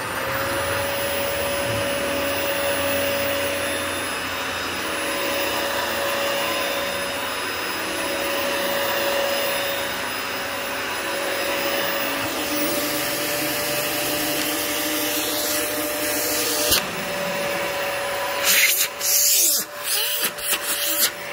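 Cyclone XT commercial vacuum cleaner running steadily for a long stretch, a loud continuous whine and airy hiss with a steady tone, ending in some clunks and bumps.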